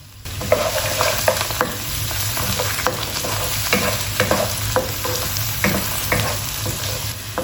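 Finely chopped onion fries in a pan, a steady close sizzle dotted with quick spoon scrapes and clicks as it is stirred.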